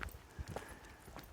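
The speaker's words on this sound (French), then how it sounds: "La petite balade en âne, là, c'est le top." Donkey hooves clip-clop on the ground during a donkey ride, giving several muffled, irregular steps up close with outdoor noise behind them.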